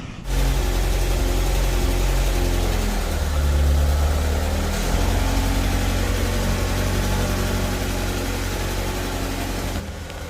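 Honda Prelude engine running, a steady close engine drone with low rumbling harmonics and a slight shift in pitch partway through, continuous and loud with no talk.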